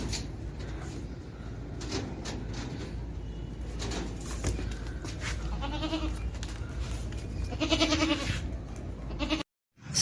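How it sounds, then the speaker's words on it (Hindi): Punjab-breed goats at a livestock market bleat in several short wavering calls near the end, over a constant background murmur of the market. "ये मेरे पास एक बकरी है, पंजाब नस्ल है"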